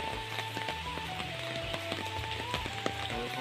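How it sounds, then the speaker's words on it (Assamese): Steady, torrential rain pours down in Majuli, Assam, with a constant wash of noise and scattered drips tapping nearby, with a low hum underneath. "এইবিলাক ধাৰাসাৰ বৰষুণ, দেৱাপিটা বৰষুণ"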